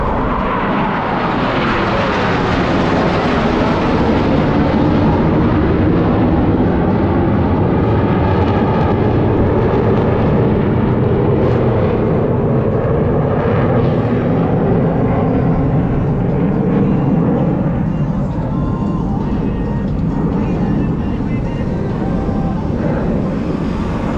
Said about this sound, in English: All four aircraft flying as one in this graceful 360-degree rolling maneuver